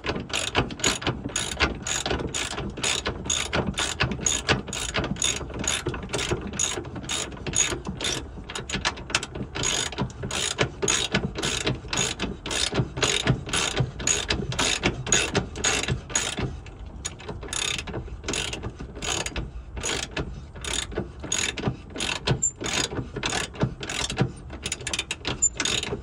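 A hand ratchet tightens a long bolt on a car's rear control arm, giving a steady, fast run of clicking pawl strokes close to the microphone for the whole stretch, with no talking.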